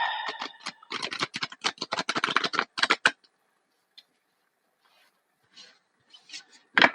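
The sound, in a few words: tarot cards being shuffled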